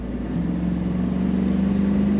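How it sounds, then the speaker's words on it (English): A 1997 Chevrolet Camaro Z/28 convertible with an automatic transmission accelerating on a kickdown, a steady loud engine drone with a low humming tone that holds throughout, heard from inside the car. "The kickdown works well on the automatic transmission. And again, we're up to speed quickly."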